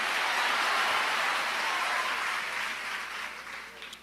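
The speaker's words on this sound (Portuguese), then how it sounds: "Você pode aplaudir ao Senhor e misturar nessas palmas glória e aleluia." A church congregation claps together in dense, even applause that holds strong and then gradually thins and fades toward the end, heard from within the room without speech.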